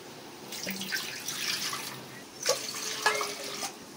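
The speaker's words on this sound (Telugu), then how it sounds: "2 గ్లాసులు బియ్యానికి 3 గ్లాసులు నీళ్ళు పోసుకున్నాము." Measured glasses of water pour into cooking masala for Hyderabadi bagara rice, making a close gurgling splash in a few short bursts with brief pauses between.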